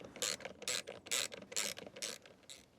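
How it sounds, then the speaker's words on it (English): A ratchet wrench tightens the six bolts on the engine air filter lid of a Ford Focus Mk2, giving six quick, even clicking bursts, close and clear with no talk. "now we need to do up the 6 bolts that hold the lid in place"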